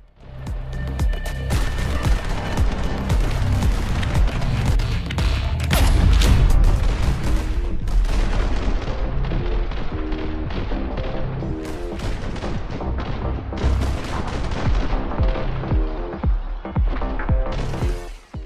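Rapid gunfire and booming shots from a Hong Kong action video game with slow-motion shooting, dense and loud throughout, with layered bursts, impacts and game music-like tones.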